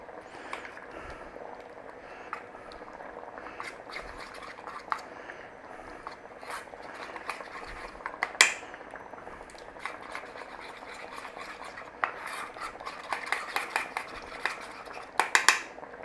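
A spoon clinks and scrapes against a bowl while stirring a corn flour paste for old-fashioned potato and bacon soup, with soft irregular taps at close range and no talk.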